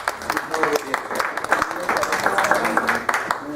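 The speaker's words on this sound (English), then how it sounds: "we'd like a round of applause for getting it accomplished" Applause from an audience at a seminar in a library, dense overlapping claps sustained throughout, with a faint voice or two mixed in underneath.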